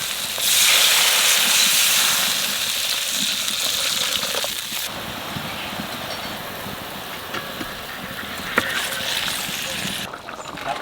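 Water poured into a pan of fried spices with green chili, salt and turmeric bursts into a loud, steady steaming sizzle and hiss that slowly settles, continuing for several seconds.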